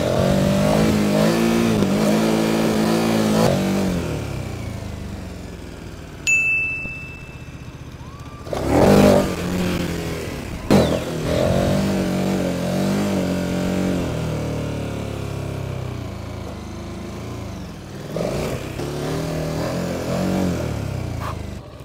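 A Honda Goldwing motorcycle engine revs loud and close, rising and falling in several throttle bursts with sharp blips around the middle.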